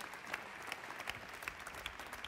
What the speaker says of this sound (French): please give Alex a huge hand for that.